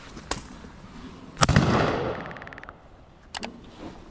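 Gun firing at feral pigeons and rabbits in a farm yard: one loud sharp report with a rolling echo that decays over about a second, bracketed by a few fainter distant cracks and clicks, outdoors with no talk.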